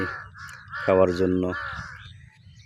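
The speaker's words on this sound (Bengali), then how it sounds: "পাশে কাক ডাকছে" Crows caw nearby on a rural dirt road beside a large wetland in Shariatpur, a short burst of loud, harsh repeated calls over a quieter background while a person talks.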